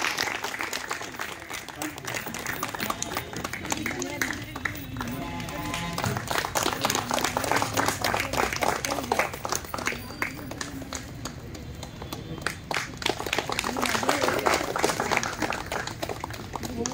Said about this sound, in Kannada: ಚಪ್ಪಾಳೆ ಜೋರಾಗಿ ಬರಲಿ.